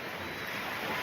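Sea waves washing on the Cheung Chau island shore in Hong Kong, a brief steady wash of surf and wind noise with no voices.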